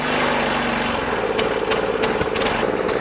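An old John Deere 14SB walk-behind lawn mower engine, needing a tune-up, runs rough with the choke brought down: a loud, close, uneven chugging drone with irregular knocks and sputters, its pitch dropping partway through.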